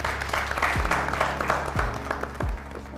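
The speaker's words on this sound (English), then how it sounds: "Again, a round of applause for the Pitch." Audience applause at the grand finale of The Pitch, a steady wash of many hands clapping for the full stretch, fairly loud and dense, with low thumps underneath.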